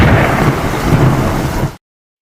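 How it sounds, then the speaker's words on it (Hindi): Cartoon sound effect of thunder rolling as rain begins over a river, a loud, rumbling crash with a steady hiss of rainfall that cuts off abruptly. "इसी बीच बरसात शुरू हो"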